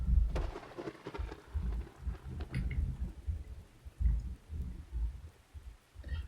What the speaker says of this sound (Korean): 하늘에서 굵은 빗방울이 떨어져 땅에 가득한 빛으로 씻어냈다